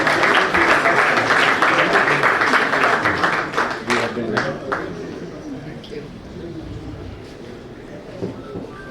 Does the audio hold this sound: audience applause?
yes